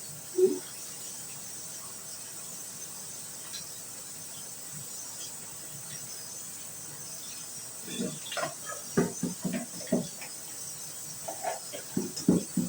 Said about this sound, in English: I usually like to rinse my beans or any vegetable that I make off pretty good.